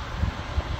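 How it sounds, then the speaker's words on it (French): Strong wind gusts roar through a snowstorm in Grenoble, Isère, a broad rushing noise with low buffeting surges on the microphone, heard alone and close. "rafale de vent avec chute de neige"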